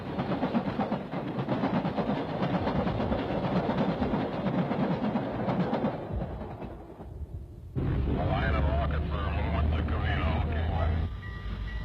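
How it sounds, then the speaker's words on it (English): The American Freedom Train in 1976 speeding through San Gabriel on the Southern Pacific line, a loud sustained rumbling roar of the passing train that dips briefly then surges again with heavy low-end noise, close by. "Rail fans and the public alike witness the Freedom Train as she speeds through San Gabriel,"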